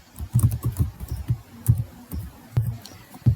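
Rapid keystrokes on a computer keyboard while a C program is entered, irregular clusters of close, fairly loud taps with brief pauses, no voices.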